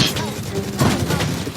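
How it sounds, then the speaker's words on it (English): A rocket jump followed by another rocket launch in a video game, a dense burst of explosive blasts and booms, loud and close, with a voice talking underneath. "That was a rocket jump plus another rocket launch."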